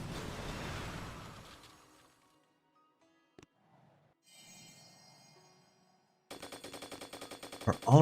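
Machine guns in a Clash of Clans battle fire in a rapid, evenly spaced burst near the end, after a fading rumble and a near-silent stretch with a single sharp crack.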